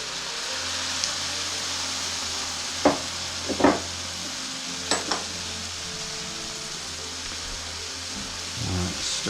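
Milk poured into a sizzling gravy roux in a pan, giving a steady hiss of bubbling and frying with a few sharp spatters and clinks of a utensil, close up and with no speech.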